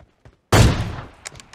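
A loud shot in a mobile battle royale game, likely a sniper rifle, with a sharp onset and a long fading tail and a few faint small clicks after.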